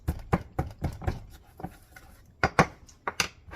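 Hands crumble a streusel topping mixture with cinnamon in a bowl, giving a series of soft, close crunchy rubbing pats in uneven rhythm.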